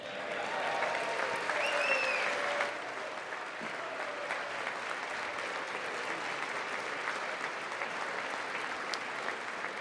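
Clapping from an audience at a State of the Union address fills the room, fairly loud for the first few seconds and then easing into a steadier, softer patter that runs on to the end.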